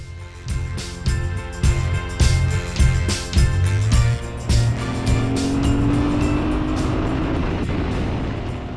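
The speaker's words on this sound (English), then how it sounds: "This was a thoroughbred racing bike that they put on the street, and believe me, it does race." A classic Ducati 450 racing motorcycle is ridden hard, its loud, close engine note rising and falling through choppy throttle bursts before settling into a steady climbing drone.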